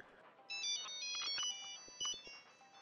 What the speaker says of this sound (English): it must be my phone ringing